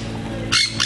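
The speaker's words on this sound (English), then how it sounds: "As you can tell, that's an owl" A captive Southern Boobook owl, the mopoke, gives two sharp, loud calls close by, over a steady low background hum.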